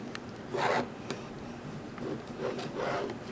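Pen or marker drawn point to point along a quarter-inch mark on quilting fabric for a Dutchman's Puzzle block: two soft scratchy strokes, near and quiet, each about a third of a second, with no talk.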